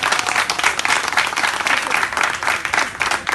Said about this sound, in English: Shall we give them a hand of applause?